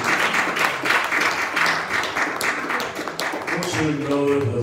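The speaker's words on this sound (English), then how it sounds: "give God a hand clap of praise" A church congregation at a Sunday AME service claps hands in praise, a sustained wash of many overlapping claps filling the room for several seconds, with voices audible beneath.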